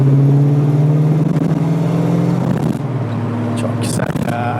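A 1968 Dodge Charger R/T with a 7.2-litre 440 engine revs under throttle, its deep drone close and loud before easing off, with voices talking over it.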